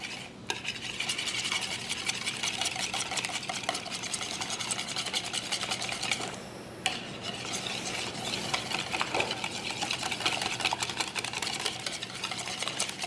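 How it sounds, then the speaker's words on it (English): Separated egg yolks are whisked for soft serve custard, heard as a close, continuous, rapid scraping and clinking of a whisk against a bowl. "now that we have our yolks separated, we're just going to whisk them up real quick"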